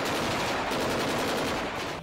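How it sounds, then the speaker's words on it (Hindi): Rapid, continuous fire from a tank-mounted machine gun rattles in a fast, unbroken burst lasting a couple of seconds, loud and close, with no voices. "एक टैंक पर लगाई गई मशीन गन से ताबड़तोड़ गोलियां बरसाई गईं।"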